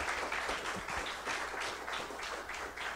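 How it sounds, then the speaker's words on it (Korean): Steady applause from an audience at a Korean labor forum, many hands clapping in a continuous dense wash throughout, moderately distant, with no talk over it. "힘찬 박수로 맞이해 주십시오"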